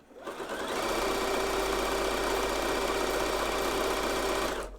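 A sewing machine runs continuously, stitching picot elastic onto women's underwear with a fast, even, close mechanical whir that starts up, holds steady for several seconds and then stops.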